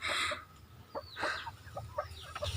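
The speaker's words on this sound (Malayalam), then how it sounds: "ഇവിടെയുള്ള എല്ലാ കോഴികളും നാടൻ കോഴികളാണ്" Several free-range country chickens on a small poultry farm cluck in short, irregular bursts close by, with a brief higher squawk at the start.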